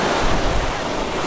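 Sea waves wash onto the beach at Comino island in Malta, a loud, steady rush of surf mixed with heavy wind buffeting the microphone.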